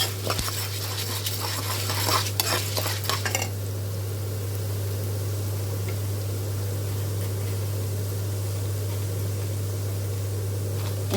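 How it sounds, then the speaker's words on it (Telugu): Coriander seeds fry and get stirred in a pan, giving a steady sizzle over a constant low hum, with scraping and clinks of a spoon against the pan in the first few seconds. "దీని తర్వాత మనం ధనియాలు కూడా వేసుకోవాలి."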